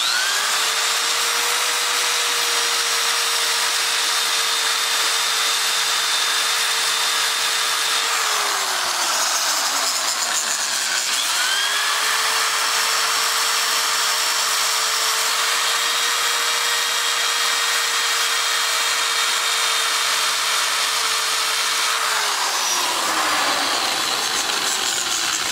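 A power tool shaves down a part for a 1984 Honda Saber VF700S motorcycle, a loud continuous whine held for long stretches with brief dips between passes.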